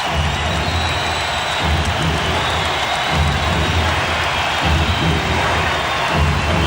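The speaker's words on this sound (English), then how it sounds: "And the crowd is standing to the chant of defense." A standing basketball arena crowd at a 1992 playoff game between Portland and Phoenix chants rhythmically in steady repeated pulses, a massive roaring wall of voices that stays loud throughout.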